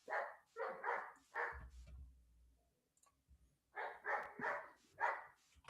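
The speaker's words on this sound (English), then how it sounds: "I might have to do something about that dog." Indoor dog barking in two quick bursts of several sharp barks each, separated by a short lull with a low rumble, moderately close and fairly loud.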